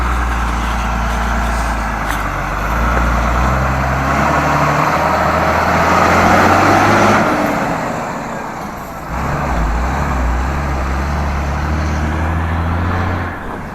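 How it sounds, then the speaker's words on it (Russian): A vehicle engine labors and nearly stalls in thin air on a winding mountain road in Sichuan, China; loud low rumbling drone with shifting pitch, a dip around the middle and then recovery, close and continuous, with no talk. "движок глохнет у него, кислорода не хватает ему"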